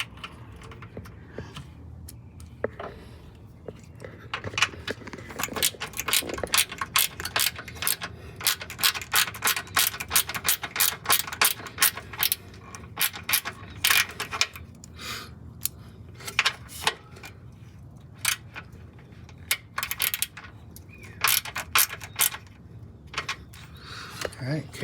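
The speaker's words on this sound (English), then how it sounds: "The little ratchet, yeah." A small ratchet tightens wiring in the front trunk of a Tesla Model Y during a power frunk kit install, giving close, rapid bursts of sharp clicking in uneven runs with brief pauses and occasional faint voices.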